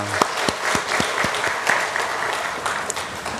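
A church congregation applauds together, a few loud, distinct claps ringing out near the start before the clapping merges into a full, steady round that carries on to the end.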